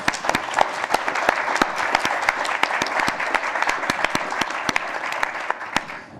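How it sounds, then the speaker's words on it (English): A conference audience applauds with loud, sustained clapping in which sharp individual claps stand out throughout, tapering slightly at the close. "really you deserve a big round of applause"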